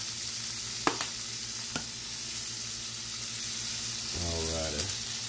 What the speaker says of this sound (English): So now I've got my spoon, and everything's melting really nicely. So I'm just turning and kind of basting it.